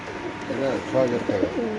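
A grizzle racer pigeon gives a few close, low, throaty coos in quick succession against a faint background hum.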